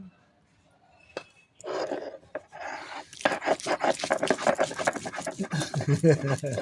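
Garlic, with nigella seeds, being ground into paste by hand, making close, rough scraping strokes that build into a steady rhythmic grind over the second half, with a few sharper knocks early on.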